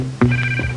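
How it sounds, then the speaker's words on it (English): A pair of spy sunglasses rings with a short electronic tone, a burst of a couple of trilling chirps heard close and alone. "James, I believe your sunglasses are ringing."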